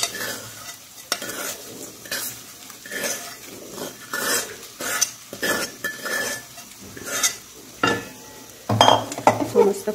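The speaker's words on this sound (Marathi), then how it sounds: "आता आपण याच्यामध्ये टाकून घेऊ आपण फ्राय केलेला खिमा." Fried mutton kheema being stirred into a tomato masala in a pan, a spoon scraping and clinking against the metal in an irregular rhythm over a soft sizzle, close and moderately loud with no talking.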